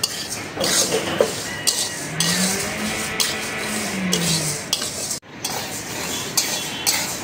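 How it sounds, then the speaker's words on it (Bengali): A utensil scrapes and rubs steadily against a metal wok as dry mung lentils are dry-roasted, a gritty rasping with a few clinks. "ডালটা আগে কড়াইতে ভেজে নিব।"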